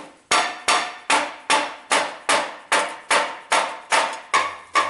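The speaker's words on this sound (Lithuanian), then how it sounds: "jis paima plaktuką, dabar klausykit." Hammer blows strike metal bars in a Kaunas atomic bunker: about eleven loud, ringing strikes in a steady, even rhythm, each with a short decaying clang, close by and with no talk.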